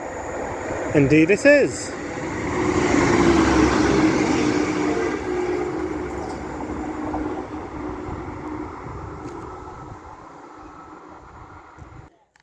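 A Northern class 195 diesel unit on the York to Leeds line passes through Church Fenton station, a loud rushing roar that builds quickly and then fades away gradually, with a brief spoken remark near the start.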